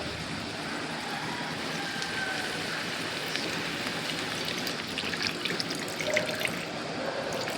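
Water poured into a pan of fried fish fillet with oyster sauce, a steady broadband pouring and splashing hiss that runs continuously throughout, close and moderately loud, with no voices.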